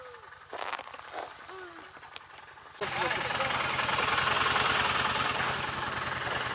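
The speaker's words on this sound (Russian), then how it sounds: "Сейчас садимся на снегоход и вперед." A snowmobile engine starts up after a few seconds of quieter rumbling and then runs steadily, loud and close, with a rough, rattling drone.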